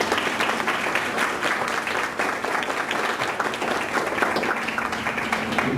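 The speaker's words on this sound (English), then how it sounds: "One last round of applause for Terry Bean." Audience at a marketing networking meeting applauding speaker Terry Bean, a continuous, even wash of many hands clapping at moderate loudness with no speech over it.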